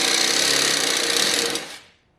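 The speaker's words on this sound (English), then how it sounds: "So I gotta cut this pretty much right in half." A power saw cuts through a 12-inch metal fork piece for a big block motorcycle, a loud steady buzzing grind that holds for about one and a half seconds and then quickly fades away.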